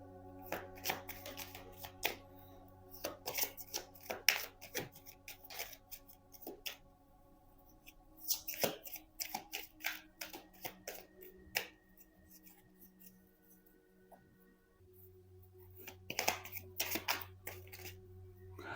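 Tarot cards being shuffled for a reading, quiet crisp riffling and slapping of cards in irregular bursts, close up, with a steady low hum underneath.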